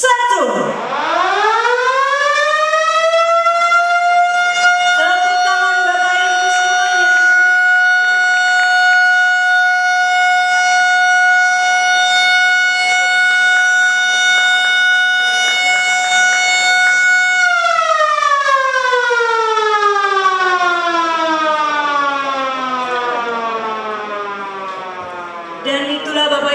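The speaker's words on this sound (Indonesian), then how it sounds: "dengan dibunyikannya sirine" An event-launch siren wails in a long sustained rising tone, holds steady and loud for most of the stretch, then winds down in a falling glide before fading near the end.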